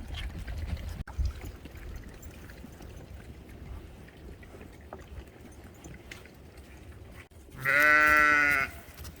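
A ram bleats once, loud and close, near the end, after a long stretch of low rural background rumble and faint rustling.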